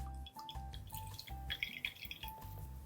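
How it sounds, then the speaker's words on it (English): Liquid draining from pressed, cooked spinach for a stuffed flounder dish, a faint close trickle with small irregular drips and splashes repeating in short bursts. "let's see if we can reduce some of that liquid by just giving this just a little bit of a push and draining off some of that liquid"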